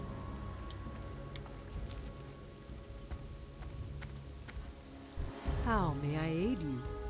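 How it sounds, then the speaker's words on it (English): Steady rain falling in World of Warcraft's Thunder Bluff, a soft continuous patter with faint drips throughout, joined near the end by a louder warbling game sound effect. "It's a rainy day in Thunder Bluff."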